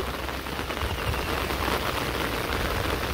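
Steady rain pours outside a rural house, a dense, even hiss of drops on surfaces that holds close and loud throughout with no voices.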